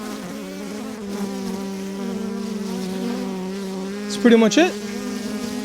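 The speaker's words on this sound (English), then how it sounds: "We got some bees flying around." Steady buzzing of honeybees flying around while a bee package is installed into a hive box, a continuous close drone with a few louder passes near the end and a brief spoken remark.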